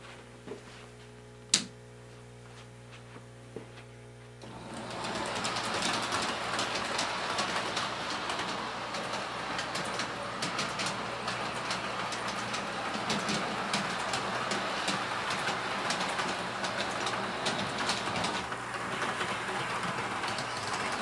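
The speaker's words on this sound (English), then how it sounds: "Now we've got both the S-gauge train and the large-scale train on the track." An S-gauge and a large-scale model train running together on track, a steady rolling rumble with faint clicking that starts after a quiet hum and a few clicks, then continues evenly.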